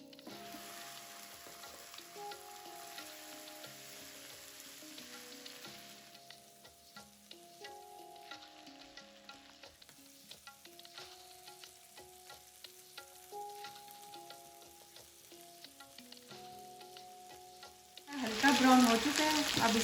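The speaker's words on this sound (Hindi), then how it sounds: "इसी में आप जो है चिकन डाल दें आप।" Chicken pieces fry in hot oil for biryani, a steady sizzle with stirring scrapes underneath over a background of music, ending in a louder burst of frying.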